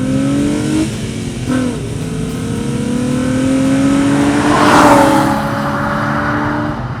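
A Nissan VQ35DE V6 engine in an Infiniti G35 revs up and down repeatedly, a throaty rising and falling roar close by with a smooth, raspy exhaust note.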